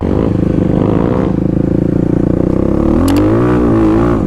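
Kawasaki KLX351 dual-sport motorcycle riding on new Tusk Dsport tires along a wet, leaf-covered road, a loud steady engine drone with a rising rev near the end, heard close from the rider's position with no talk.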